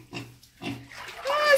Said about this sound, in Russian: Свинью моим дорогим шампунем.